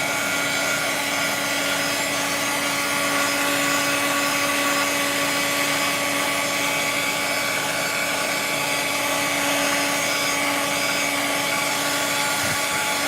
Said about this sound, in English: dry it with the heat tool.